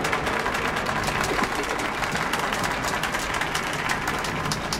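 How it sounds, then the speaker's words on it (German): A crowd cheers and applauds in a theater in the game Metro: Last Light, a dense, steady wash of clapping that stays moderately loud throughout. "Einen kräftigen Jubel für die Helden von der Messe!"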